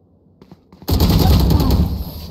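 Gunfire in the Valorant video game: a loud burst of rapid shots erupts after a few faint clicks and keeps rattling close by to the end, with no speech over it.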